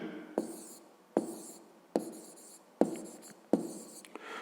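Pen on paper during a fifth-grade maths exercise: five distinct scratchy writing strokes at a steady rhythm, close and quiet, with no voices.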